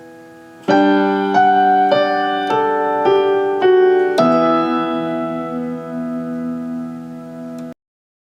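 A piano plays a song with both hands, six clear struck chords in slow succession, the last left ringing long before stopping cleanly, no voices.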